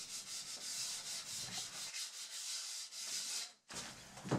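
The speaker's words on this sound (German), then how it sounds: "das Schleifen der Kanten." Hand sanding with sandpaper along the edges of a wooden window frame, a steady run of scratchy rubbing strokes heard up close, broken by a short pause near the end before the rubbing resumes.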